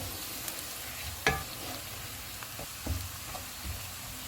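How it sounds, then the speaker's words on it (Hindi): Spices with onions and green chillies frying in a pan for mutton malai boti, a steady close sizzle broken by a few scraping stirs of a spoon. "सारे मसाले डालेंगे। इनको 2 मिनट तक भूनेंगे।"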